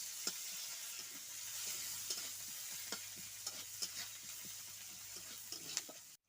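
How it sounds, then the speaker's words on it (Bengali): Onion frying in a pan, a steady soft sizzle with regular scraping strokes of a spoon stirring through it, close and fairly quiet, with no voices. "পেঁয়াজটা একটু ভাজা ভাজা হোক"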